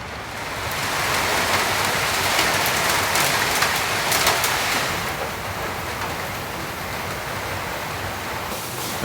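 Steady rain falls around a remote cabin, a dense even hiss of drops on surfaces that holds constant and close throughout, with no voices.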